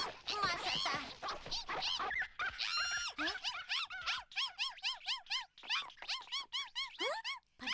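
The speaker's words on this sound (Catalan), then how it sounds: "És un gos de veritat" A small cartoon dog lets out a string of high squeaky whimpers and yips, rapid rising-and-falling cries repeated in quick bursts, loud and close, with a little overlapping cartoon voice.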